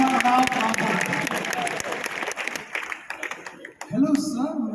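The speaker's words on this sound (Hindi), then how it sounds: "पहला पड़ाव पार किया, एक जोरदार ताली।" An audience claps loudly at a direct selling seminar, a dense burst of applause that thins out into scattered claps before a voice speaks at the end.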